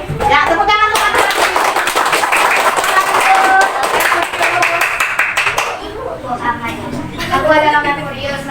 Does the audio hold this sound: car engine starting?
no